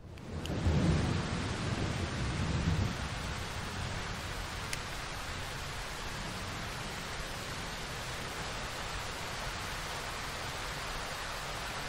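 Steady rain with rumbling thunder in the horror survival game Darkwood, a dense broadband wash that holds constant throughout, with a deeper low rumble swelling near the start and no voices.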